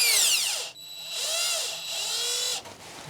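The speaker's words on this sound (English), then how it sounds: "And now let's put in our screws for extra safety." A power drill whirs in two or three bursts while driving screws into a Hauslane WM-530SS stainless steel under-cabinet range hood, its motor pitch rising and falling, close and fairly loud with no talk.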